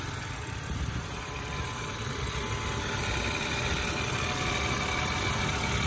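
A 2005 BMW 325i with a longitudinal six-cylinder electronic fuel-injected engine idles smoothly and steadily, a low continuous hum close by with no talking.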